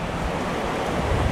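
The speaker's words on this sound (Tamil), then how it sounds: "மழை பாருங்கள் எப்படி இருக்கு பாருங்கள்." Heavy rain pours at night over a hillside bird aviary housing breeding cockatiels, a dense, constant roar of falling water without a break.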